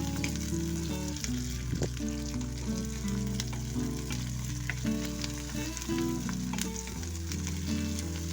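Tomatoes being added to browned onions frying in oil for a bitter gourd dish, with a steady loud sizzle throughout and occasional stirring clinks, backed by a constant low hum.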